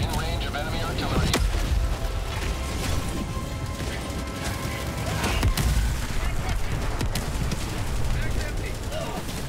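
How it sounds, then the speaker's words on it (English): Enemy artillery and gunfire in the game Helldivers, a dense, continuous barrage of booming blasts and rattling shots with a few sharper bangs standing out, loud and unbroken throughout. "Warning, you are in range of enemy artillery."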